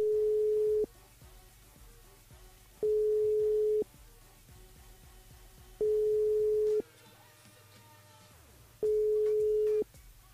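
Telephone line ringback tone heard while a radio host phones a listener from the studio switchboard: four steady beeps about a second long, evenly spaced roughly two seconds apart, with faint studio chatter in between.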